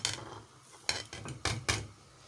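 A utensil scrapes and clinks against a pot while okra tagine ingredients with tomato, garlic, paprika and red pepper are stirred, a few short quiet knocks and scrapes close by.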